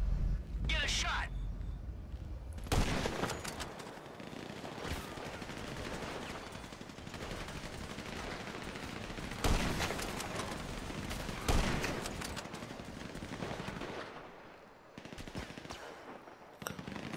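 Gunfire in the video game GTA 5, with bursts of automatic fire and single shots scattered across a long stretch, sharp loud cracks near 3, 9.5 and 11.5 seconds over a steady background, with voices talking.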